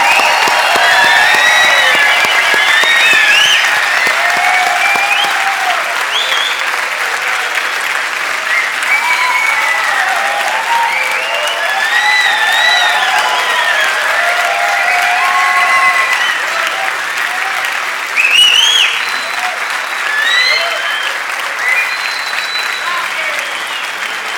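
Audience at a university graduation ceremony breaks into sustained applause, a dense, steady clapping that carries on for the whole stretch with a few cheers and whistles rising above it.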